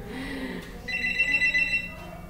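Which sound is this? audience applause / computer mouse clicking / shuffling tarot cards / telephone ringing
telephone ringing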